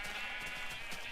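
Sheep bleating on a wool farm in a Minecraft-style building game, a faint, thin cry or two over a steady hiss of background ambience.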